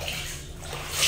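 Water sloshes and splashes steadily and close by during an outdoor bath, a soft wash of sound lasting about a second.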